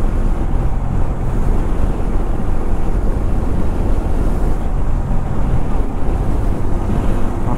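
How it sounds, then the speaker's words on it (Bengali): Strong, cool wind on an open three-lane highway roars and buffets the microphone in a constant, loud, low rumble with no voices. "ফাঁকা ফুরফুরে হাওয়া দিচ্ছে, বেশ ঠান্ডা"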